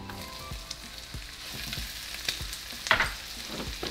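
Raw onion frying with bacon in a pan, a low steady sizzle with scattered crackles and occasional stirring scrapes, a sharper spatter near the end, close and moderately quiet with no talking.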